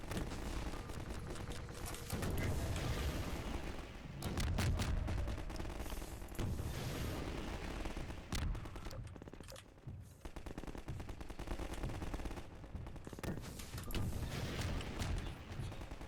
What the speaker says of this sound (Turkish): Aşağıda bir çatışma mı dönüyor?